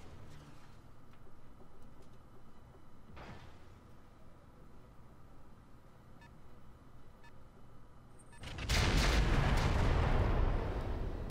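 Mortar artillery fire in the mech combat game Roguetech (BattleTech): a steady low rumble, a single sharp thud, then a loud roaring blast that swells and lingers near the end.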